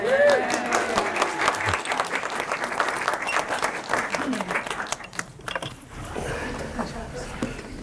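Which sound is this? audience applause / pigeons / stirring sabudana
audience applause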